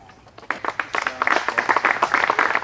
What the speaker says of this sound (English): Get some applause from the gallery.